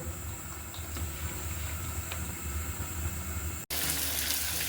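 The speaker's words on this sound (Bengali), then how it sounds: "প্রথমে আমি মাছগুলো আলগা করে ভেজে নিব।" Pieces of coral fish marinated in fish spice fry in hot oil, giving a steady close sizzle and bubbling hiss that runs on without a break, jumping abruptly louder near the end.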